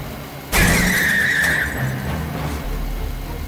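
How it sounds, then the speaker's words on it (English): A car in Watch Dogs driven recklessly, with a loud sudden skid whose tire squeal rings out for about a second before the engine rumble carries on and fades slightly, no voices over it. "Now to finally finish things off by doing one more set of reckless driving."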